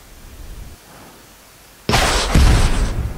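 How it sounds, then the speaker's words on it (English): Homing missiles in a video game fire and burst with a sudden loud explosive blast, then a second heavier boom and rumbling after a quiet lead-in. "Yes. Homing missiles."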